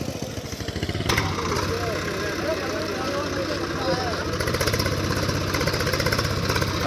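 Tractor engine chugging steadily at moderate distance while pulling out a stuck trolley, a continuous mid-pitched rumble with people talking over it throughout.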